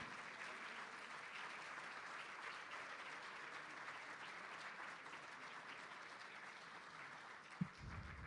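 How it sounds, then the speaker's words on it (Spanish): Steady audience applause fills a seminar hall at a national public budget conference, an even wash of many clapping hands that holds throughout without voices over it, ending with a single soft thump. "Así que los aplaudimos a todos ellos y ellas que figuran allí en nuestra pantalla"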